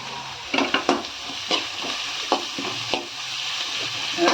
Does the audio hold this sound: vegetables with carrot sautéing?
yes